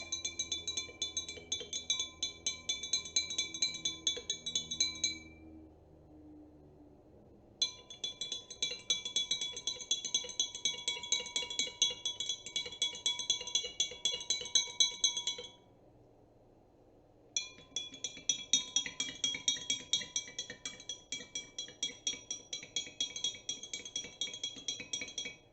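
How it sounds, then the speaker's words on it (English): Spoon stirring sugar water in drinking glasses, clinking against the glass in quick rapid taps, in three bursts separated by brief pauses, close and clear with no talk. "I am going to stir that up to mix our sugar a little bit better in our glasses."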